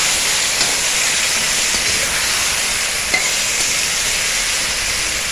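Kohlrabi hits hot oil with frying onions and sets off a loud, dense, steady sizzle and hiss close by, with faint stirring taps underneath.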